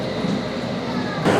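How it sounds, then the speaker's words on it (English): Passenger train ride toward Windsor in England, a steady rumbling interior roar of a moving railcar with broadband noise throughout, close and continuous, with a louder swell near the end. "a nice fellow told us we can take this train."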